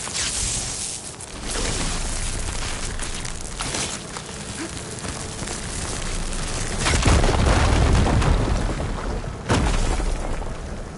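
In Horizon Forbidden West, an igniter sets off a fire gleam deposit, producing heavy booming blasts with a crackling, shattering edge. A loud burst lands around the middle and a second, sharper one follows shortly after, both over steady rumbling game ambience.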